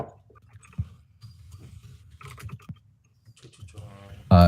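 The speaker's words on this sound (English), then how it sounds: "I'm typing in chat." A computer keyboard clatters with scattered, irregular keystrokes at close range, pausing now and then, before a louder burst of noise at the end.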